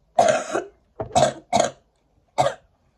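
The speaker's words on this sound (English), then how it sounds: "I've got such a bad cough" Four separate coughs from one person, close and dry, bunched into short bursts with brief gaps between them and no talking.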